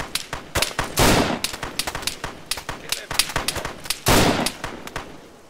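Gunshots in the video game ARMA 3 Exile Mod on a winter Chernarus map, a rapid irregular string of cracks with two heavier blasts among them, loud and close, with speech woven throughout.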